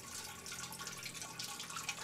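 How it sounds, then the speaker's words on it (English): Water pours steadily from a one-gallon jug through a small funnel into the reservoir of an Anova Precision Oven, a continuous soft trickling splash heard close and alone, with no talk. "I'm going to put a little funnel in here. I've got a 1-gallon water jug from the pharmacy."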